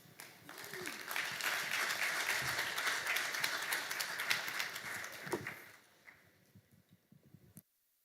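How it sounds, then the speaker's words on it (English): Audience applause at an aviation market workshop, a crowd clapping steadily for about five seconds before thinning out to a few scattered claps and stopping. "Another round of applause."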